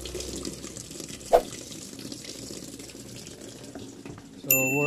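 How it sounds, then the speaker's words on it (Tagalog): An automatic washing machine on its wash cycle, fitted with a universal main board, lets water in with a steady hiss of running water. A single clunk sounds partway through, and an electronic tone beeps at the end. "Nag-release na ng tubig."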